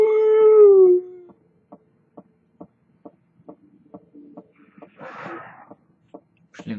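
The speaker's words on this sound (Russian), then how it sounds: "Собачки бегают." In the Silent Hill 3 video game, a dog lets out one long, loud howl, followed by a quiet run of evenly spaced thudding pulses and a short rough burst near the end.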